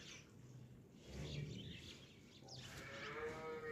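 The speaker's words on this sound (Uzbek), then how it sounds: "Mana sigir turflari." Cattle at a livestock market, with a low cow moo rising out of a steady background of market bustle, quiet and somewhat distant, with faint bird chirps.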